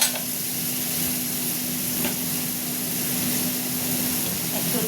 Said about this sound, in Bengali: মশলাটা কষা হবে।